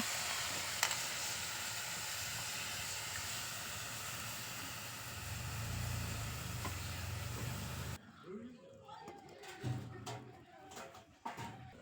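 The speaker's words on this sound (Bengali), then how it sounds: "সবার প্রথমে কড়াইয়ে কপিটা দিয়ে দু মিনিট মতো কপিটা ফাঁপিয়ে নেব" Cabbage steaming in a wok (kadai): a steady loud hiss and sizzle for most of the clip, then abruptly quieter stirring and clattering with scattered sounds.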